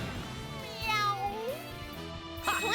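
A cat meows in the video game Disgaea 4, a clear rising-and-falling cry over steady game music and effects, with a brief burst of effects near the end.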